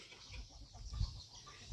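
Chickens cluck faintly in the distance in a Thai village on a Buddhist Lent merit-making day. The brief murmurs sit low against a quiet background.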